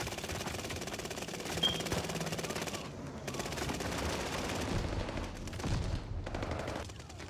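Rapid automatic AS-44 gunfire in the Call of Duty Vanguard video game, loud, sustained bursts with brief pauses, close and dense throughout.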